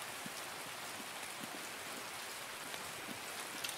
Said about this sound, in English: This rain is intense